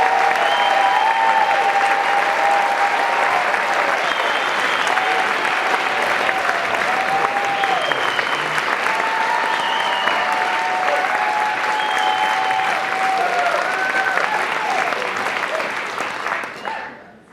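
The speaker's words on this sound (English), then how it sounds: "a big round of applause for our fifth storyteller, Chang, everyone" Sustained applause from a live storytelling audience at a Moth event in Berkeley, steady and dense for about sixteen seconds with a few whoops and voices rising above it, then cutting off sharply at the end.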